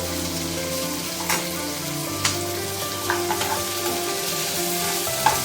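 Mustard seeds, cumin, chana dal and urad dal fry in hot oil for a tempering in an Andhra-style gongura chutney, making a steady close sizzle with a few sharp pops and crackles.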